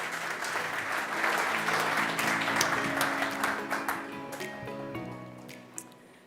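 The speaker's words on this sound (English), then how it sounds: "Warm applause for this first speaker," Warm applause from a forum audience greeting the first speaker at a European hydrogen event, steady dense clapping that swells and then thins out, with music joining in the second half.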